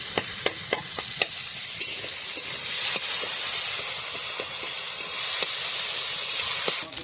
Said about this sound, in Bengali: চিংড়ি মাছটা কড়া করে ভেজে নিয়েছি